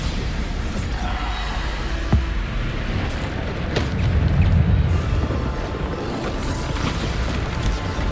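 A Bombarda blasting spell from Hogwarts Legacy bursts through a rumbling game battle, the sharp boom landing near two seconds in and a heavier, denser blast swelling around four to five seconds, all under continuous low combat noise.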